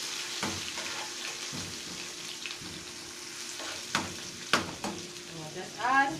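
Onion, garlic and pimento frying in a pan for butter yam and saltfish, a steady close sizzle with a few sharp clinks and stirring noises and no talking.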